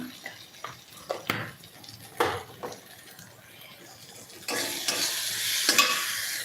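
Spices with chili powder frying in a pan: clattering stirs and scrapes of a spoon against the pan, then a loud, steady hiss of sizzling when liquid hits the hot oil.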